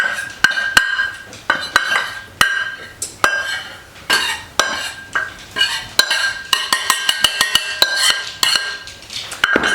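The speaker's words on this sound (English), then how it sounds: "I'm going to go ahead and put the rest of this make-ahead mix in this quart jar." Homemade make-ahead baking mix is scooped into a glass quart jar, with repeated sharp clinks of a metal spoon against glass and a steady rhythm of scraping and tapping that quickens toward the end, close and fairly loud, with no speech.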